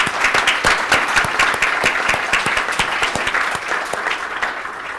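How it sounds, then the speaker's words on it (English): An audience at an emerging markets conference claps in sustained, dense applause that holds steady for several seconds before starting to thin. "Let's give them a round of applause."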